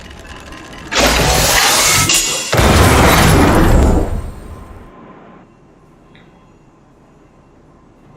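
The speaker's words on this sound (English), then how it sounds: "We wiped them all out in a single explosion!" Explosion sweeping away enemies in Honkai Star Rail, a loud burst of crashing, shattering debris in two big surges that fade into quiet ambience after a few seconds.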